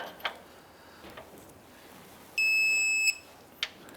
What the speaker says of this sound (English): Now I'm going to go ahead and torque these bolts down to 114 foot-pounds.